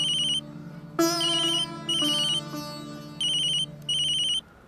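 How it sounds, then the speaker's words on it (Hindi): A phone ringtone chirps in short repeated bursts at a Holi family gathering, loud and close, with steady tonal music underneath and no talking. "आपका फोन बज रहा है।"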